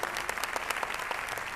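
An audience at an event in Kolkata bursts into loud, dense clapping, a steady wash of applause throughout with no one speaking over it.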